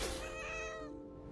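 A cat meows once in the video game What Remains of Edith Finch, a single drawn-out, close call that tapers off over about a second with no talk.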